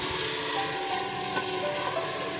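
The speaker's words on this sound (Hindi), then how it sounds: "इसको अब मैं मिक्स कर रही हूँ चिकन को अच्छी तरह" Marinated chicken being stirred and mixed in a clay pot for matka biryani, a soft continuous scraping and wet sizzling texture, steady and close with no talking.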